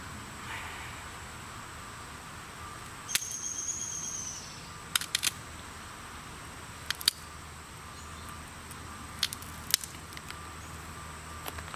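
Glass bottle being flintknapped into a knife or arrowhead, giving a few sharp, brief cracks and pops scattered across a quiet background, with one longer scraping crunch early on.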